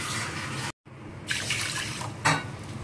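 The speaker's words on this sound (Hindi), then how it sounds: "हम 2 कटोरी पानी डाल देंगे" Water poured into a pot for sugar syrup makes a steady splashing stream, loud and close, broken by a brief silent gap and then resuming with a splashy surge near the end.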